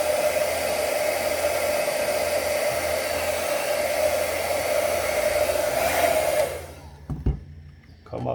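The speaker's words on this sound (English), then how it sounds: "I'm going to take my hair dryer a little bit too" A hair dryer blows steadily on a 1974 Yamaha mini bike gas tank for several seconds, loud and close, then cuts off, leaving a few faint clicks and knocks.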